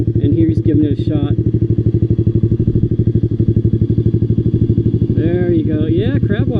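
An off-road vehicle's engine thumps loudly in a fast, steady pulse, close up, as it backs up and powers its way out of a sand bowl at Olds Hill. People talk over the engine noise.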